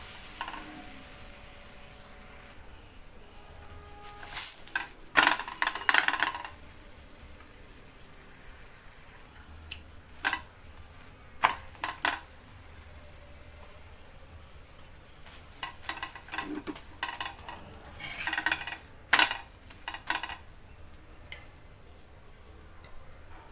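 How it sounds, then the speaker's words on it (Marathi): Puran poli flatbread cooks on a pan over a gas flame: a quiet background broken by scattered bursts of sizzling and crackling, with occasional sharp clicks. No one speaks. "गॅसवर आता आपण पोळी टाकून घेऊया"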